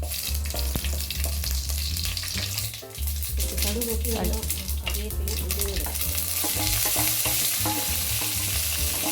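Mustard seeds splutter in hot oil, crackling and spattering steadily with busy popping bursts, loud and close, continuing without pause throughout.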